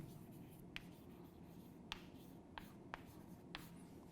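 Chalk or marker writing on a board during a trigonometry lesson, with a few faint scratchy taps and strokes spaced unevenly over a steady room hum, quiet and close.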